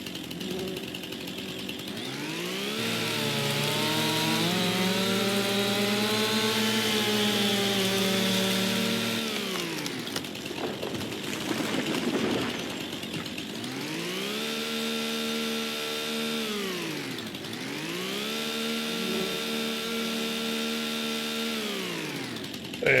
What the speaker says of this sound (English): Bring in our chainsaw again.